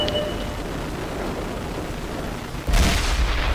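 An AMX 30 B tank cannon fires once in World of Tanks, a single loud, close blast that cuts through a low, steady rumble near the end.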